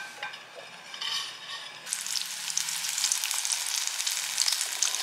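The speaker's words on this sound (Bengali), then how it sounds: "এখন তোপসে মাছ ভাজা হবে" Battered topse fish fry in a hot pan, first a thin hiss and then a loud, bright crackling sizzle that rises sharply and holds steady, close up with light clinks of utensils and no voices.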